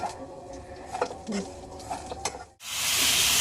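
Vermicelli being stirred and roasted in ghee in a pan, soft scraping and light crackle at first, then a sudden loud, steady sizzling hiss that takes over toward the end.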